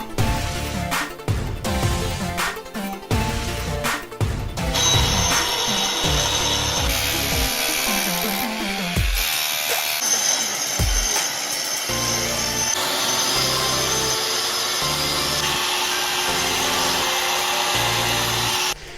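A power sander grinds steadily against a stone-carpet surface on concrete steps, a loud continuous abrasive whine that shifts in pitch as the tool moves, with brief pauses early on.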